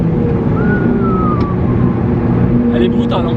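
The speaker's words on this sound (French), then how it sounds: "Juste pour ce bruit, c'est juste un 4 cylindres, mais l'échappement à Krapovic il joue énormément sur le plaisir." An Alfa Romeo 4C's four-cylinder engine breathing through an Akrapovic exhaust gives a loud, steady drone that fills the whole stretch, with a faint rising whine layered on top.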